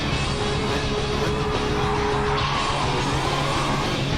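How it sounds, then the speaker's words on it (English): A race car at Laguna Seca snaps into oversteer, its tires skidding in a loud, continuous squeal over the engine noise, lasting a few seconds. "Another snap, but she manages to keep this one from going 180. More snap oversteer."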